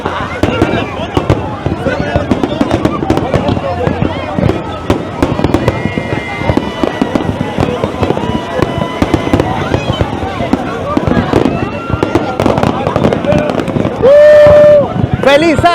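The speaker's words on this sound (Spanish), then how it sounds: "Es espectacular cómo se puede ver los fuegos artificiales, súper alucinante" New Year 2025 fireworks over Copacabana beach in Rio de Janeiro, a dense, continuous barrage of loud booms and crackles with a crowd cheering and talking throughout and a whistle-like tone near the end.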